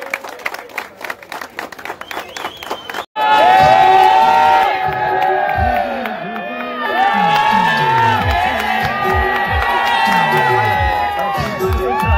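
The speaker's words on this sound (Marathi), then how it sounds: "सगळ्यांनी टाळ्या वाजवायच्या" At a Dahi Handi festival with a Govinda pathak building a human pyramid, a rhythmic beat gives way to a loud burst of crowd cheering, whooping and clapping, with voices shouting over the din.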